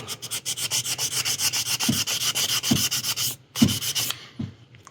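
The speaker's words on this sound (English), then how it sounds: "Sand until those are gone." Steady back-and-forth sanding strokes on primer over a plastic model kit, a rapid rhythmic scratchy rubbing up close, with a few brief pauses and soft taps near the end.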